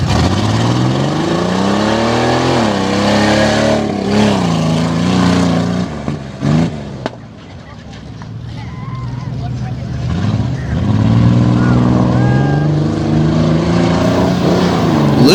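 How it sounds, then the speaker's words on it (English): A cheater stock limited modified race car with roll cage and half body roars around the track at Dragway 42, engine pitch rising and falling through gear changes and a turn, loud and close, with a person talking over it. "Definitely a bare bones racing machine right here."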